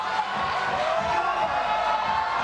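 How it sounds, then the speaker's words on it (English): Spectators at a bouldering competition final fill the venue with continuous crowd noise and cheering, a dense steady roar with no single voice standing out. "you can hear the crowd in the background."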